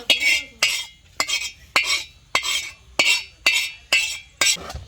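A spatula scrapes and clinks against a pan while egg fried rice is mixed, about nine steady rhythmic strokes, close and clear with no talking.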